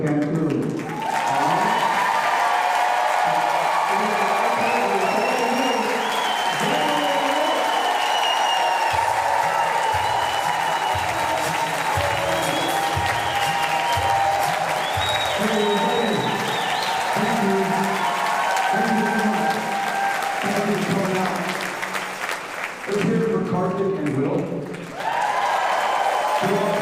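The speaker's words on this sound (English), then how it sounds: "I want you all to give my man Beto an applause that Crenshaw can hear from Cancun." Large crowd at a Beto O'Rourke town hall in Humble clapping and cheering, a sustained roar of applause lasting over twenty seconds with shouts and whoops, a voice talking over parts of it, fading near the end.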